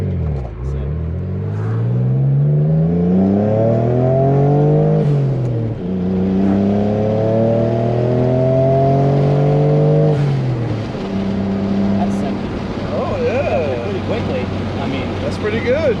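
A Dodge Stealth with all-wheel drive pulls hard in third gear. The engine note climbs steadily in pitch in long sweeping pulls, dropping back twice before rising again, loud and close from inside the car.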